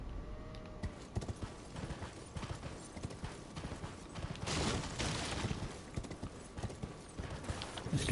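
Horse hooves galloping in Elden Ring, a fast rhythmic clip-clop running throughout at close range with faint mechanical clatter mixed in and no voice over it.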